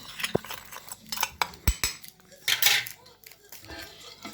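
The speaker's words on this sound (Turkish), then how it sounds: "Salep ve şekeri karıştırmak güzel. Eze eze böyle karıştıralım arkadaşlar gördüğünüz gibi." A spoon scrapes and clinks against a bowl while salep and sugar are stirred together, giving irregular close metallic taps and scraping strokes with brief gaps.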